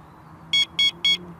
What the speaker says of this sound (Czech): Hlásič zapneme delším podržením tlačítka pro zapnutí.